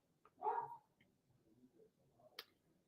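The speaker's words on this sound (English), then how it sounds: "Please ignore the barking in the background." A single faint dog bark somewhere in the distance, followed by quiet background with a small click.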